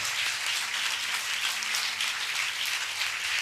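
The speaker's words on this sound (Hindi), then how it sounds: "जोरदार तालियां बजाइएगा" A church congregation applauding during a Pentecost service: a dense, steady wash of many hands clapping, uniform in level for a few seconds, with a faint low tone beneath and no clear speech.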